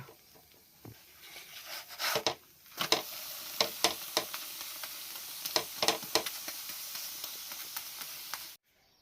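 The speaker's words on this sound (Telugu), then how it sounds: "చపాతీలు మెత్తగా ఉండడానికి ఆయిల్ పోసుకుంటున్నాం మీద" Chapatis cook on a hot pan with oil poured over them, giving a steady close sizzle broken by repeated sharp crackles and spits, ending abruptly.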